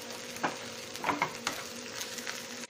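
Crushed dried red chilli flakes are sautéed in a pan for a Chinese-style chicken fry, a soft steady sizzle with several light scraping stirs, fairly quiet and with no talking.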